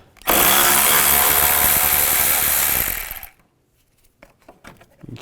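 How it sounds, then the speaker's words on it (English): A power tool spinning a 10mm socket to remove a bolt on a 2005-10 Volkswagen Jetta coolant reservoir: one loud, harsh whir of about three seconds, then quiet with small clicks and handling noises. "Remove this bolt right here."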